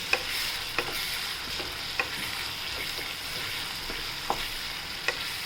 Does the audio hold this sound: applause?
no